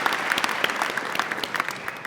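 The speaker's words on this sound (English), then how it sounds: "Give that a big hand." A small audience at a keynote talk claps in a brisk, scattered burst of individual hand claps, fairly close and moderately loud, with no talk over it.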